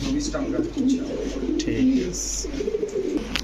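Soft, low pigeon cooing from racer, Lahori, teddy and Bombay pigeons repeats steadily beneath nearby chatter, with a few faint chirps overhead.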